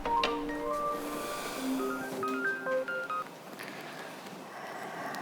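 A telephone rings indoors with an electronic ringtone, a string of clear beeping tones at changing pitches that plays for a few seconds, fairly close and fading toward the end.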